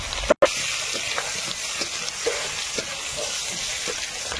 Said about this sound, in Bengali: কচুটা ভেজে নেবো